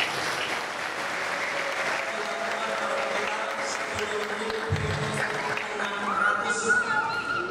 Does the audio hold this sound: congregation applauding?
yes